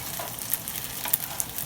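Pierogies sautéing in a pan give off a continuous close sizzle with a few faint ticks and pops over a brief stretch, no talk.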